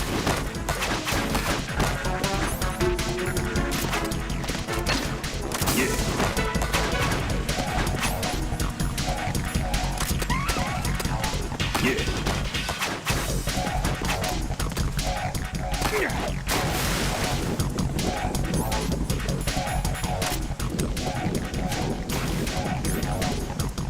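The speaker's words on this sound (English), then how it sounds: "We're going regular grenades this time." Blasts and crashes from regular grenades in the stealth video game Metal Gear Solid 2 keep going loud and dense with gunfire-like bursts, hits and a barking dog, under a steady wash of game music and effects.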